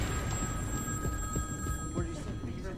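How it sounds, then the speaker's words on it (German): A telephone ringing in a documentary about the Ted Bundy serial killer investigation, where investigators face a flood of tips: steady tonal ringing bands persist over a busy background with faint clatter, fairly loud throughout. "Das Telefon steht nicht mehr still."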